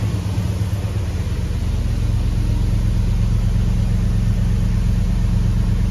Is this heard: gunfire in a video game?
no